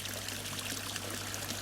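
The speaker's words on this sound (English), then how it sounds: "Because the water is moving, it does circulate." Water from a barrel filter spills steadily into a garden pond, a continuous close trickle and splash with a faint low hum beneath it.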